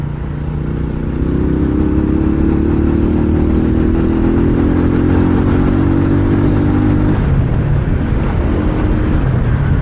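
A 150cc motorcycle rides along a road with a loud, steady engine drone. The engine pitch rises and holds for several seconds, then eases off, over constant wind and road rumble.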